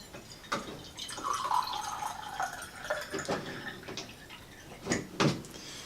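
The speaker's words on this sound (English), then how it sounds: "Put my water in." Water pours into a coffee maker's reservoir as a steady liquid trickle with a few drips and light clunks, close and alone with no talking.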